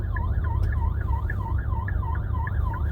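A fire engine siren approaches from behind a taxi in city traffic, warbling in a fast, steady yelp over the low rumble of the taxi's engine.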